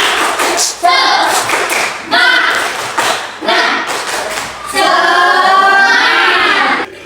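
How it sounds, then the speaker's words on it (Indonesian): Indonesian schoolchildren in a classroom perform a patterned spirit clap, bursts of loud, close rhythmic claps broken by short pauses, mixed with chanted voices, and ending in a sustained cheer. "Oke, Ibu mau ngetes dulu semangatnya. Tepuk semangat."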